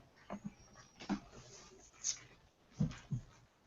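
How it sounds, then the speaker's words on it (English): Dogs whimper and whine softly in a few brief, scattered bursts, faint and close to the microphone. "I'll mute the dogs."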